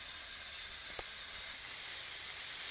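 Chopped onion in hot oil in a pan, a steady soft sizzle and hiss that swells slightly toward the end, with one small tap near the start.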